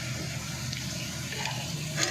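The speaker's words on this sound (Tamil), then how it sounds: "வெங்காயம் நல்லா வதங்கிடுச்சு, நம்ம மிளகாத்தூள் போட்டுக்கலாம்." Chili powder sizzles in sautéed onions for a Tamil fish curry (meen kulambu), a steady, close frying hiss that holds evenly throughout with no voices.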